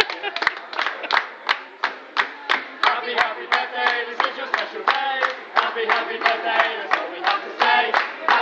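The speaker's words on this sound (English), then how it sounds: "I just need you to clap along with me" A crowd claps along in a steady, even beat to a birthday song, each sharp clap close and loud, with voices singing or calling underneath throughout.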